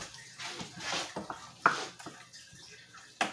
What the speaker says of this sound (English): let me stir the rice one more time.